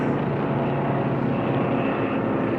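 Propeller-driven Formula One class racing aircraft flying past at an air race, a steady broadband engine and propeller roar holding at fairly close range with no talk over it.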